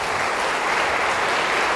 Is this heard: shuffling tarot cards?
no